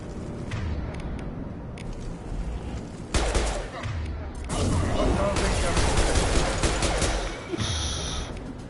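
Loud gunfire from a firefight in the Mass Effect 2 video game, with Blue Suns mercenaries shooting: dense, continuous bursts and volleys fill the whole stretch, rising to a heavier barrage midway.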